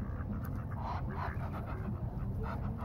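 A dog pants hard and fast at a park lake where ducks gather, the steady breathing close against a constant rumbling outdoor background.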